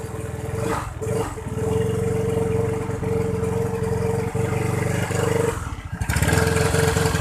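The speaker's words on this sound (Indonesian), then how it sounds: "Ini udah saya on kan, hidupkan mesinnya ya." A used scooter-type motorcycle engine is started and settles into a steady, close running idle with a continuous low throb, briefly interrupted near the end before picking up again.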